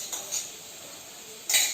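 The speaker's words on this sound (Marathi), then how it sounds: "हे दही आहे ना, मी तेच बोलते, दही फेटून टाकते." A spoon whisks yogurt in a bowl for biryani gravy, giving a few soft clinks and one sharper scrape against the dish, close by with no talk.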